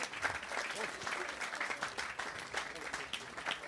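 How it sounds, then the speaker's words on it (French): Audience applause for a festival director from the Périgord at a televised candidate-contest semifinal, a dense steady round of clapping filling the whole stretch, with some voices mixed in. "qu'on peut applaudir bien fort"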